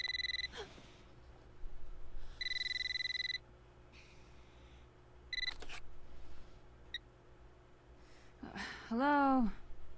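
Telephone ringing in the video game Eternal Darkness: repeated electronic ring bursts with gaps between them, alongside other clicks and tones, fairly faint.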